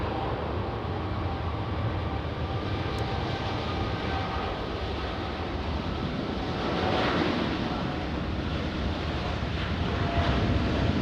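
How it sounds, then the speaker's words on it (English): An Air Tahiti Nui airliner bound for Paris on its takeoff roll at LAX, a loud continuous jet engine roar with broadband rumble that holds steady and builds slightly toward the end, heard from the airfield. "Let's go to Air Tahiti Nui, flying to Paris, already on its takeoff roll."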